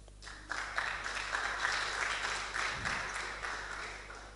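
Audience at a startup pitch event claps to vote for a favourite pitch, a burst of applause starting abruptly and holding steady at moderate level with a low room hum beneath.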